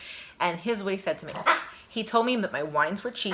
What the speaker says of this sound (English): pardon my dog barking in the background